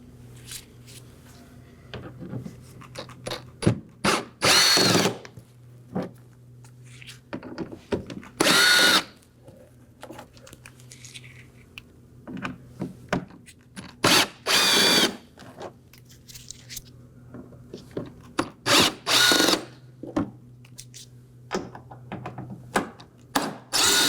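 A power drill or driver backs out T15 Torx screws on the inner wheel well of a 2018-2024 Chevrolet Equinox. Several short, loud whirring bursts come with pauses and small clicks between them, and no one speaks.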